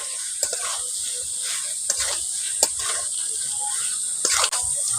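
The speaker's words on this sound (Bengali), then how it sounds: "লবণটা দিয়ে ভালো করে মিশিয়ে নিচ্ছি" Pointed gourd and prawns are stirred with salt in a pan, giving a hissing sizzle broken by several sharp scrapes and clatters of the spoon at irregular moments.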